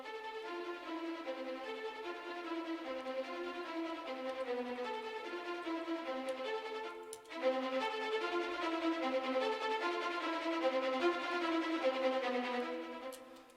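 A sustained orchestral string ensemble, layered Musical Sampling and Cinematic Studio Strings libraries, plays rich chords with a slight swell midway, smooth and full-bodied with no voices present.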